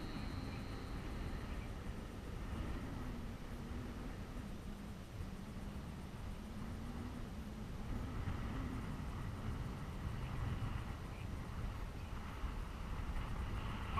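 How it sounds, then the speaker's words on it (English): Steady wind rushes and buffets across an RC model airfield, a continuous breathy roar with gusts swelling toward the end and no voices. "Winds are picking up over 10 miles an hour now"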